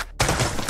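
Gunfire in a first-person video game erupts after a brief pause, a loud, dense burst of shots close up with no voices over it.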